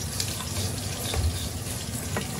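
Mung dal frying in a pan for khichuri, giving a steady, close sizzling hiss that runs without a break and with no talk.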